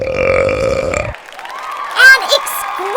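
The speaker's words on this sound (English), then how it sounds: "An exquisite belch there from Kraken." A loud, drawn-out belch from a BattleBots competitor in a burping contest, cutting off abruptly, then followed by crowd cheering and applause with excited voices.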